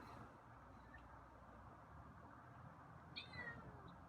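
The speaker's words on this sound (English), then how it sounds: "Okay, there's a meow." A feral cat being tamed gives a faint, brief meow late in the quiet stretch, with one or two thin cries over low room noise.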